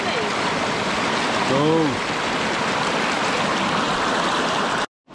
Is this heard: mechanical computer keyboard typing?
no